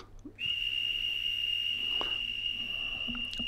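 A Minitrix BR 185 electric model locomotive with DCC sound gives a long, steady, high-pitched whistle that begins abruptly and holds for about three seconds, loud against a faint hum.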